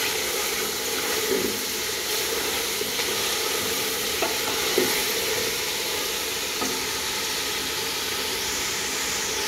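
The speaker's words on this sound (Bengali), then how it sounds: "এখন আমি হালকা লাড়ি দিব এগুলারে" Potatoes with chilli and capsicum being lightly stirred in a frying pan while making chicken biryani, giving a steady, close sizzle with soft scraping strokes throughout.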